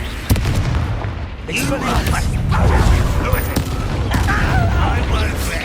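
A Confringo fire-blast spell bursts in the Hogwarts Legacy video game amid a dense, continuous battle din of crashes and booms, with a sharp blast near the start and combat voices and effects layered throughout.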